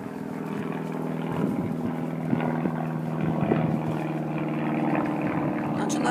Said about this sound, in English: Lawnmowers and helicopters and stuff flying all around.